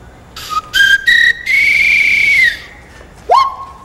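A whistle plays a few short bright notes, then holds one long steady tone, ending with a quick rising swoop.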